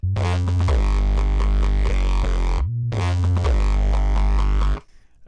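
Layered synth sounds, each passed through several distortions and EQs, blast a thick, gritty sustained chord over a heavy bass that drops in pitch, breaks briefly, then returns loud and dense before cutting out.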